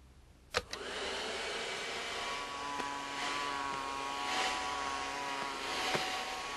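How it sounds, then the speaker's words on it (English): A vacuum cleaner switches on with a click and runs steadily, a loud whining hum that wavers slightly, with no voices. "He decided to use his vacuum cleaner."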